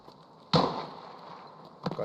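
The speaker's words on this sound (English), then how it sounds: "Gunshots." Gunfire in the shooter game Escape from Tarkov, two sharp reports with a lingering echoing tail, the first fairly strong and the second quicker, heard at a distance over a quiet ambient background.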